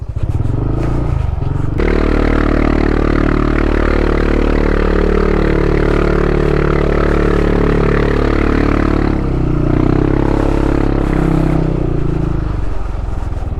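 Motorcycle engine droning loudly and laboring under heavy load climbing uphill, pitch shifting as it strains, close by with rattling in the background.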